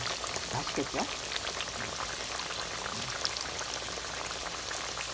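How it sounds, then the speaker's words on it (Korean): Purple and honey sweet potatoes coated in starch and brown flour deep-fry in hot oil, giving a steady loud bubbling sizzle while rain falls and a voice speaks briefly. "꿀고구마를 튀기는 중이에요."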